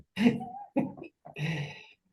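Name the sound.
deliberate coughing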